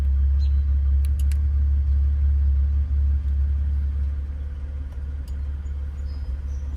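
A car's idling exhaust rumbles steadily after an electric cutout valve closes, the deep bass thinning and quieting slightly toward the end, with a few faint clicks above the low drone.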